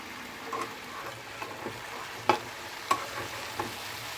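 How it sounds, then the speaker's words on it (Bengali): Koi fish frying with cauliflower and potato in a pan while turmeric is stirred through, a steady low sizzle broken by a few sharp spoon scrapes and clinks, close and alone. "আর দিয়ে দেবো আমি হলদি পাউডার একটু এটাকে ভালোভাবে মিশিয়ে দিয়ে"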